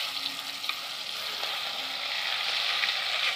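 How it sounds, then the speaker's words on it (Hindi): Marinated paneer fries in hot mustard oil with a steady, close sizzle that holds evenly throughout, with no voices. "ये देखिए हमारा मैरिनेटेड पनीर, इसे हम इसमें डाल करके"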